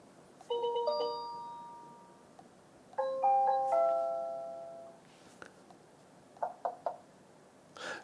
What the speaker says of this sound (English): Doorbell. Quite is loud, isn't it?